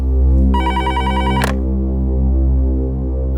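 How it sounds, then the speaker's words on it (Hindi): A phone rings once with a bright electronic trill lasting about a second, over a steady low hum, ending with a short click. "आइए, उठाइए फोन"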